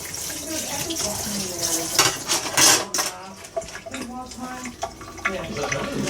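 A thermometer and spoon being washed under a running kitchen tap after cheese making, with water splashing and metal clinking against the sink in bursts, close and fairly loud, while someone talks over it.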